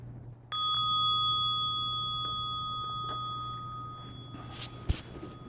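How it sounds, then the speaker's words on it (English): A single meditation bell is struck to close a mindfulness session, ringing out with a clear sustained tone that slowly decays over several seconds in a quiet room. "listening for the sound of the bell to open your eyes"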